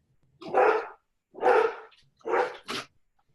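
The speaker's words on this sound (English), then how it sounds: "Excuse me, I have a dog." A dog barks three times close by, loud and sharp, with a quick yip after the last, in a quiet indoor room, greeting a mail carrier.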